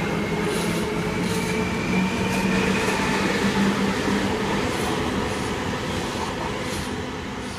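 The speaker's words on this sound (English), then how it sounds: "Brisbane Airport service departing platform number 2, leading unit," A Queensland Rail IMU electric multiple unit pulls out of Wooloowin station, a rising electric motor whine over rolling wheels with regular rail clicks, close and steady before easing as it leaves.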